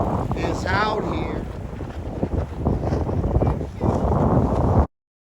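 Strong wind buffets the microphone at the Cascade Locks windsurfing spot in Oregon, a loud continuous broadband rush that gusts throughout with faint voices beneath, then cuts off abruptly near the end.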